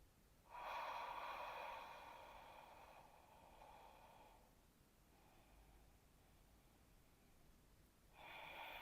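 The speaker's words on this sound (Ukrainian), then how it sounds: "І видих. Маєте відчувати характерний шиплячий звук." A hissing exhale during an ujjayi-style breathing exercise: a long, close, breathy hiss that fades gradually, a quieter stretch, then another hissing breath begins.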